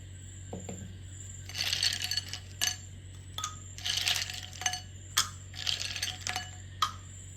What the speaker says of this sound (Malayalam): ഇനി ഐസ് ക്യൂബ് ഇടാം,